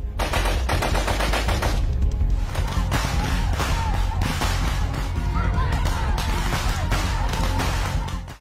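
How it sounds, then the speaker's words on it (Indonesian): Gunfire in a film firefight between soldiers and an armed separatist group, with dense bursts of automatic weapon fire rattling continuously and loudly throughout. "aksi baku tembak pun gak bisa dihindarkan"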